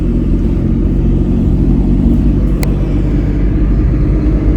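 A car circling the Circuit of the Americas on a parade lap, heard from inside as a steady, loud low rumble with a constant engine drone and no talking.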